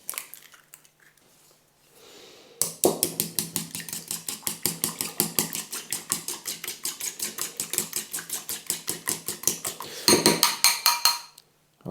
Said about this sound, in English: So now I need to crack 2 eggs into a bowl and get these whisked together.